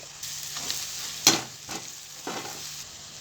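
Onions and tamarind sauté in a pan for an egg curry, giving a soft steady sizzle with a few brief stirring scrapes and one sharper clatter near the middle, close and fairly quiet.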